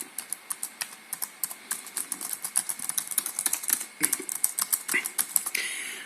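Fingers type on a Compaq Presario 700 laptop keyboard, with evenly spaced single key clicks that quicken into a dense, steady patter of crisp taps, heard up close and alone.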